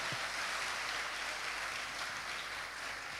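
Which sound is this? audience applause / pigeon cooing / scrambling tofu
audience applause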